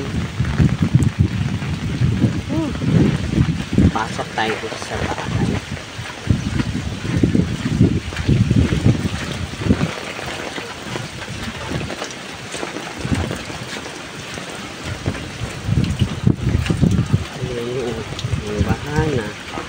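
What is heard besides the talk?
strong wind and rain during a flood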